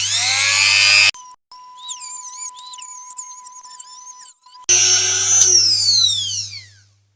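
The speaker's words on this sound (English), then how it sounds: "we'll have to start off with one of these like abrasive wheels" An abrasive wheel polishes the base of a restored Corgi Toys 701 diecast minibus, a steady high-pitched rotary whine with shifting tone between louder bursts of grinding contact, close and loud, no talking.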